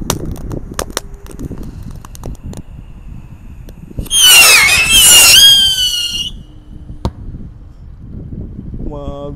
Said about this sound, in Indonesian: Selanjutnya kita nyalakan mercon roket pirotar